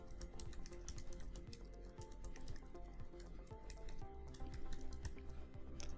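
Rapid, steady typing on a computer keyboard as a URL is entered in a WordPress settings page, dense clicky keystrokes running continuously and close up with no talk.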